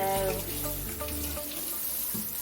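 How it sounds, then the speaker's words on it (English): Tap water runs steadily into a sink while a paint brush is rinsed clean, a continuous splashing flow with faint background murmur. "Water's running clean and clear"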